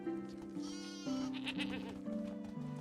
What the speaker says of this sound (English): Sheep are loud. You make a lot of noise for a little guy, you know that?